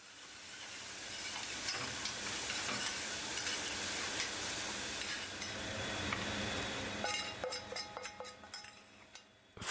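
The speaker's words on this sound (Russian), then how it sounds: "Нужно еще подрумянить на сковороде мелко порезанный лук с цикорием." Finely chopped onion with chicory fries in a pan, giving a soft, steady sizzle and hiss while it is stirred, ending in a few sharp clinks of a utensil against the pan.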